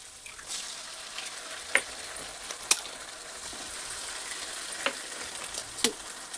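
Ginger paste fries with onions in a pan for egg pulao, a constant close sizzle broken by a few sharp utensil clicks and scrapes, with no talking.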